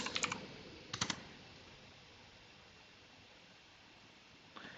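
Computer keyboard typing a command, a few quick key clicks in two short bursts near the start, then mostly faint hiss and one last click at the end.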